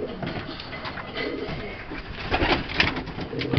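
Racing pigeons coo in a loft, soft throaty calls recurring amid general bird chatter and low room noise, growing a little busier toward the end.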